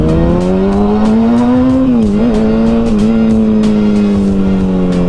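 A high-revving 2009 Kawasaki ZX-6R motorcycle engine drones loudly and continuously nearby, its pitch dipping and rising slightly as the rider shifts and accelerates.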